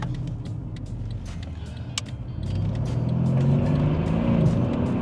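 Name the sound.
old Mercedes CLS car accelerating hard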